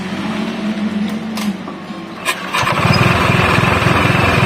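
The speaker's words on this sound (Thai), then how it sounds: "เดี๋ยวเราสตาร์ทเครื่องให้ดูครับว่าเงียบไหม" A Honda PCX scooter, just reassembled after a rear clutch repair, cranks briefly and then fires up into a steady, close idle with an even mechanical hum that continues to the end.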